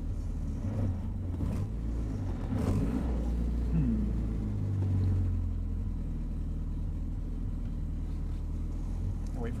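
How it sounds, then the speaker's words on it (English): Low, throaty engine rumble of a Renault 4CV driven slowly around a parking lot, close and continuous, with gear changes and swelling revs over the drone. "Beautiful little car. We'll just go around the parking lot here real quick."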